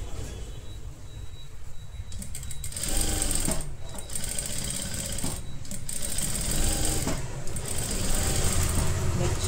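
Sewing machine stitching the lining of a halter neck blouse, a close, loud mechanical rattle in several bursts separated by brief pauses, with a faint voice talking in the background.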